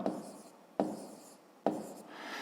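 Hand-writing a math expression on paper during a fifth-grade arithmetic lesson: three scratchy pen strokes, each starting with a sharp onset and trailing off into soft rubbing, spaced nearly a second apart, close and quiet with no talk.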